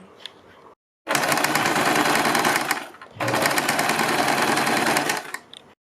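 A sewing machine runs close and loud in two long continuous bursts, stitching a strip onto the neck of a suit or kurti, with a short pause between runs.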